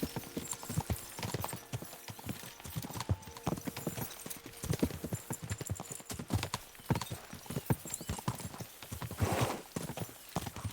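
Horses galloping in a video game, a dense, steady clip-clop of hooves that continues throughout, loud and close, with a brief whinny and some muffled voices.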